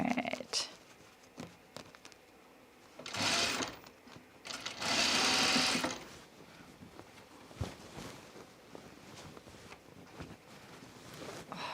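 A sewing machine stitches gathers toward the seam of a dress in two loud bursts of whirring, one short and one longer, separated by quieter handling noises and soft clicks.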